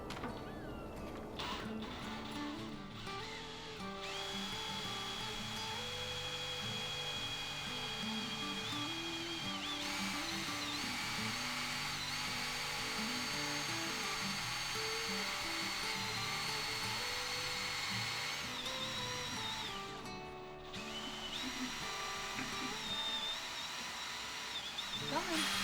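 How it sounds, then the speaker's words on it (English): A small pump, which needs time to prime, draws homemade compost tea into a bucket. It gives a steady, close mechanical whine and hum that runs almost without a break, with a brief dip near the end. "we are going to pump the compost tea into the bucket"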